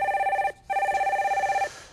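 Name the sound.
telephone ringing for an incoming call on a TV show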